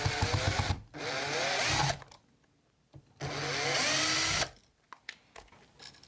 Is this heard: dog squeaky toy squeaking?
no